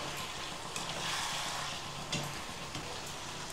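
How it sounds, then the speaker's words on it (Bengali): Potatoes are stirred into chicken frying in a pan for chicken dak bungalow curry: a steady, close sizzle broken by a few scraping, clattering stirs, with no voices. "আলুটা দিয়ে খুব ভালোভাবে নেড়ে নিচ্ছি"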